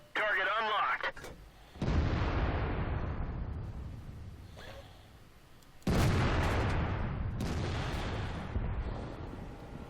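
Heavy tank cannon firing in World of Tanks as a Type 4 Heavy fights on the South Coast map: two deep, loud booms with long rumbling decays, and a brief electronic game tone before the first.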